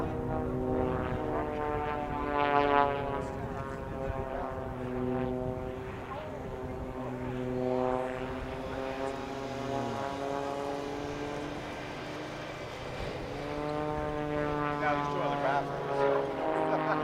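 Propeller aerobatic team aircraft at the Quinte International Airshow fly a mirror formation half roll, a continuous droning engine hum with slowly shifting pitch that swells and fades as the planes pass, under steady commentary.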